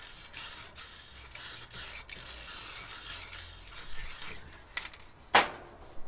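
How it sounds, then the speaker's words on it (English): Montana clear coat varnish sprayed lightly from an aerosol can over a spray-paint artwork: a run of short hissing bursts with brief pauses, then a few sharper sprays and a clack near the end. "It's a Montana clear coat varnish. I'm just going to spray it lightly over this."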